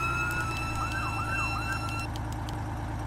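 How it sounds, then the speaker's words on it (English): A fire truck's wailing emergency siren sweeps up and down alongside a steady high electronic tone, loud and continuous over a rumbling engine, with no talking. "It does have all the sirens."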